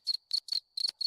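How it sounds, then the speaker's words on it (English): A cricket chirping sound effect played from a Discord soundboard: five quick, clean chirp bursts in an even rhythm, clear and alone against silence. "There's a cricket."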